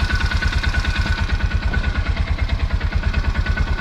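A Bobcat 3400XL side-by-side, a Polaris Ranger 500 underneath, idles close up with an even, rapid low thumping that never changes pace over a few seconds.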